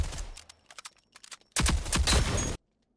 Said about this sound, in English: it'll combine more accurate shots mixed in with your regular hipfire shots if you're just spamming like this